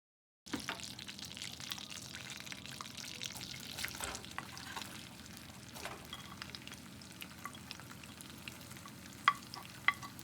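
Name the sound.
onions frying in hot vegetable oil for beef haleem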